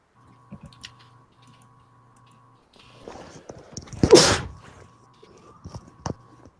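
A single loud sneeze bursts out over faint ticking and a low electrical hum, with a few soft clicks around it.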